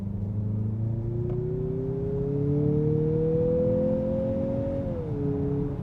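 A 2024 Mazda CX-50 turbo crossover, rated at 227 horsepower, accelerates steadily from inside the cabin, its engine note climbing smoothly in pitch for several seconds before easing at an upshift, with no talk over it.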